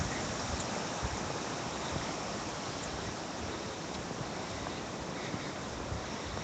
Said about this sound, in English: So this is the direction water is flowing from.